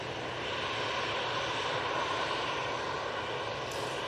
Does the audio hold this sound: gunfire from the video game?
no